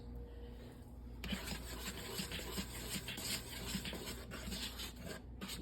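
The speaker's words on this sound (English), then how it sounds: "I'm going to get my whisk and make sure this is good and mixed." Seasoned flour mixture being whisked in a bowl for air fryer cooking, a steady close rubbing, scraping rasp that keeps going without pause, with no talking.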